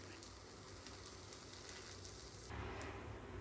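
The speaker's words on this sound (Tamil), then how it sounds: "அந்த கருவேப்பிலையை போடுங்க. அதையும் கொஞ்சம் நல்லா இது பண்ணிவிட்டு வதக்கிட்டு" Curry leaves sautéing in oil in a pan for a karuvepilai kuzhambu, a quiet continuous sizzle and crackle that swells slightly louder near the end, with no talking.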